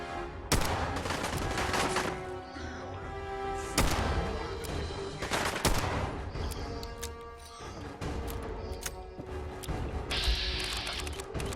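Gunfire in the PC game Fallout 4, a legendary mutated elite encounter: repeated sharp loud shots and bursts with mechanical clacks and crashes, near and punchy, spread across the whole stretch.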